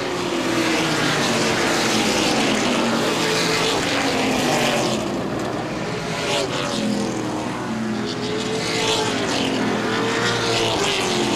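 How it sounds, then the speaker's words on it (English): Late model race car engines roar continuously past at close range at Baer Field Speedway, a loud, sustained drone with rising and falling pitch as cars speed by. "Big Orange Derek Hoffman trying to claw his way back up through the field"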